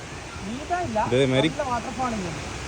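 Water from a forest waterfall rushes as a steady broadband roar, with a person talking over it in the foreground.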